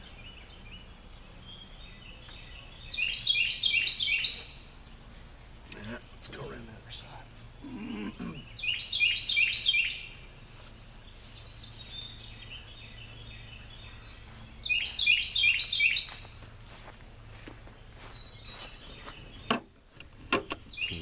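Three loud bursts of shrill, repeated bird calls ring out at intervals outdoors, with someone speaking briefly and faint background noise between calls.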